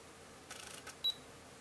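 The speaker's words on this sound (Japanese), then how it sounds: "シャッターボタンを半押しします。" Half-pressing the shutter button on a junk Canon IXY Digital 400 compact camera gives a short whirring lens motor, then a single high focus-confirm beep. Both are faint and close in a quiet room.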